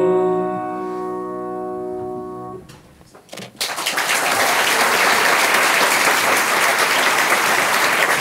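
A sung song with sustained musical notes ends, a brief pause follows, then a loud, dense wave of audience applause erupts and holds at a singing contest in Saint-Pierre et Miquelon.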